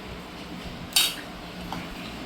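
A spoon clinks sharply once against a dish while rajma and rice are served, followed by a fainter tap in a quiet room.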